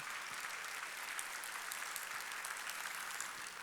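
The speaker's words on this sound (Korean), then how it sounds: "박수 치라." A church congregation claps together during a Sunday worship service, producing a continuous, fairly soft wash of many hands at a steady level, heard alone with no speech on top.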